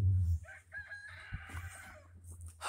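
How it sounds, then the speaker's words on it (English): Chickens cluck and a rooster's crow rises in the middle, fairly close, over a low background hum. "Oh, the chickens won't shut up."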